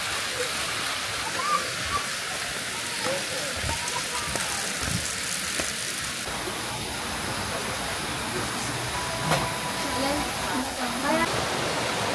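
Flowing water of the Tapuacan river rushes in a steady, broadband wash that continues without a break, close and fairly loud.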